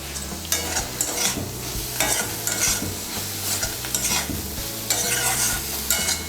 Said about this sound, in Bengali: পোস্তটা ভালো করে মিশিয়ে নিয়ে আরেকটু আমি ভেজে নেব